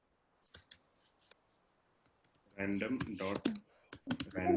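Fast clicking of computer keys as code is typed, a couple of isolated taps followed by a short flurry of keystrokes, heard close alongside a speaking voice.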